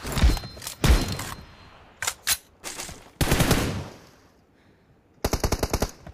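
Rapid automatic gunfire from the mobile shooter game PUBG Mobile in a 1v1 team deathmatch, coming in several loud bursts separated by short pauses, ending with a quick rattling volley.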